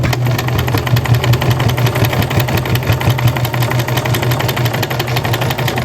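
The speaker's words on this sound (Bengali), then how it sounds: "কাপড় সেলাই করতেছি।" A household sewing machine stitches cloth, its motor running in a steady, close mechanical whir with a rapid even needle rhythm, continuous and loud from start to finish with no talking.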